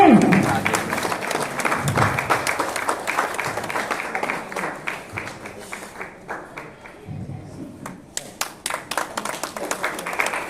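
Sustained applause from an audience gathered at a party headquarters press conference and training session in Patna, steady clapping from many hands that thins toward the end, with a voice speaking over it.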